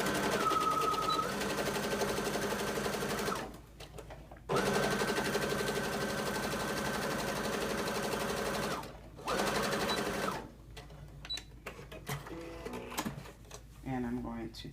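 A sewing machine stitches a back dart on a jumpsuit in three loud, steady bursts, each lasting a few seconds, with short pauses between them and a quieter stretch of handling noise at the end.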